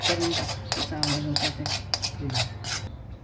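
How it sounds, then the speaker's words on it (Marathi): Roasted gram flour is stirred in a hot kadhai after the gas is switched off, making about eight rhythmic, close scraping strokes of a spoon against the pan before the sound stops abruptly. "गरम आहे कढई म्हणून मी थोडंसं हलवते"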